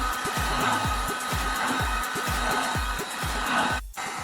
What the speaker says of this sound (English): You take the heat gun, lay some heat on here.